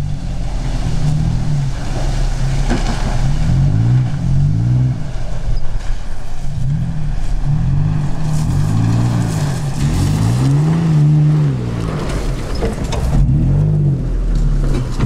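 Toyota Tacoma pickup on an off-road competition course in the steppe, its engine revving loudly and continuously with rising and falling pitch sweeps as it climbs and descends, close and steady throughout.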